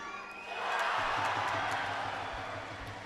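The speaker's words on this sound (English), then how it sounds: "The crowd not happy with that decision." An indoor crowd at a men's final between Northern Ireland and England groans and murmurs in a sustained swell after a referee's block call, rising and then fading over a few seconds.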